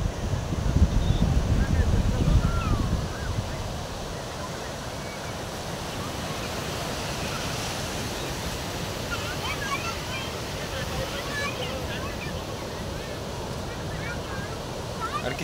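Ocean surf at Yarada beach in Vizag, a steady broad wash of breaking waves with wind noise on the microphone, louder for the first few seconds and then a constant roar.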